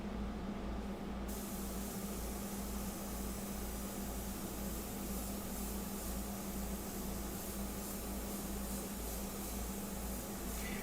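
An airbrush spraying India ink gives a continuous, dense hiss that stays level and fairly loud throughout, with a faint low hum beneath and no talking.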